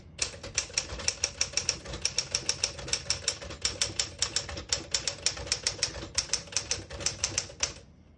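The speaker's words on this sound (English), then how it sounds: "I'll type a sentence in red on the next line." A 1964 Smith-Corona Sterling portable typewriter in good condition types a line in red ribbon, a rapid, crisp run of close key strikes in uneven bursts with brief pauses for eight seconds.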